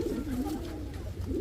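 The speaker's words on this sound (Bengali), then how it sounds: "এই যে আরেক জোড়া রোড মাস্টার নাপ্তা কবুতর, একদম ক্রিম চোখের" Roadmaster pigeons, cream-eyed, cooing in low, steady murmurs at close range in a pigeon market.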